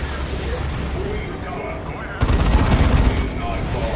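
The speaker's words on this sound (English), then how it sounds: "that Vulcan Heavy Bolter is ripping through these Marines" Vulcan heavy bolter fire in the strategy game Dawn of War 2, Warhammer 40k, a dense continuous roar of rapid gunfire that swells louder partway through and keeps chattering steadily under game battle noise.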